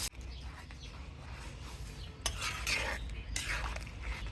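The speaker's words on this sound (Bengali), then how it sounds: "এখন ফোড়ন মিলিয়ে দেবো। ফোড়নটা মিলিয়ে দিলাম।" Tempering spices are stirred into potato curry in a pan, with a spoon scraping and clinking against the metal in faint, irregular strokes. The scrapes grow a little busier toward the end.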